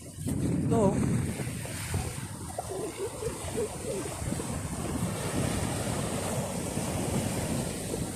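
Sea water washes and churns near a pier under construction where the sea meets a river mouth, a continuous rushing wash mixed with wind buffeting the microphone and low rumble, with a few voices faint in the background.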